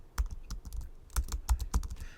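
Keys clatter on a computer keyboard in short irregular bursts, close and crisp, with pauses between clusters of keystrokes.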